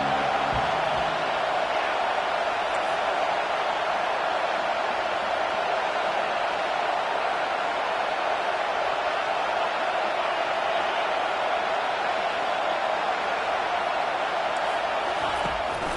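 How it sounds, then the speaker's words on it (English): Home crowd at a college football game in Oregon roaring steadily as the defense tries to get off the field on third down, a dense continuous wash of cheering with no breaks. "Here comes this home crowd as the defense tries to get off the field on 3rd down."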